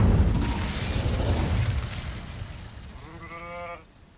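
An Incendio fire spell cast in Hogwarts Legacy bursts out as a loud, rushing roar that thins and fades over a few seconds. A brief, wavering tonal cry follows near the end before the sound drops away.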